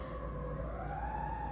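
An emergency vehicle siren wails faintly in the distance, one continuous tone slowly sliding upward over a low traffic rumble, without any voices.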